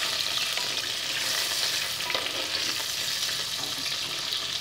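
Moringa drumsticks fry in a pan with a bright, continuous sizzle, stirred now and then, steady and close, with no speech.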